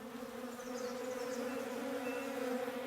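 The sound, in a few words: bees buzzing in a tree in Above Snakes video game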